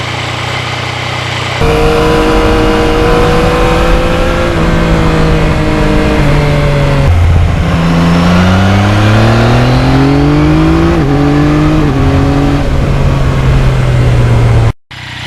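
A Yamaha MT-09 motorcycle engine drones loudly and close while riding, its pitch rising and falling through gear changes and throttle, accelerating in smooth sweeps with wind rush, and cutting out abruptly at the end.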